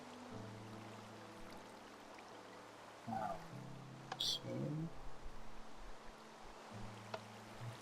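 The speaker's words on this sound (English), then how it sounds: "the water will flow around and stop here" Water flowing in Minecraft: a soft, continuous pouring trickle under steady game music, with a brief spoken word partway through.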